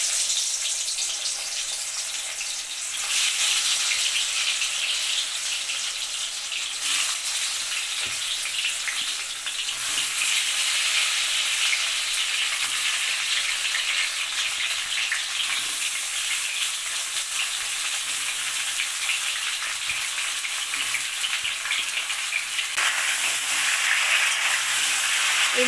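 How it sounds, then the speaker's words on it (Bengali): Mango pieces for a sweet mango pickle fry in very hot oil with a steady, loud, hissing sizzle that keeps going throughout and swells as more pieces go in and get stirred. "তেলটা এখন পুরো গরম হয়ে গেছে। এখানে আমি আমগুলো ছেড়ে দেব।"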